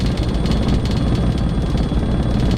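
A helicopter in a desktop flight simulator drones steadily, with a dense rotor and engine roar and a constant whine above it, loud and unbroken throughout.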